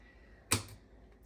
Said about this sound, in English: I'm going to snip off the root.